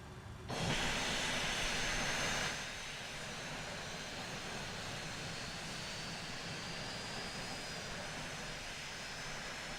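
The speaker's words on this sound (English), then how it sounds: "We can get the left engine started." The left jet engine of an American Super80 airliner starts up in Microsoft Flight Simulator, a loud rushing roar that swells briefly, then settles into a steady, even hum.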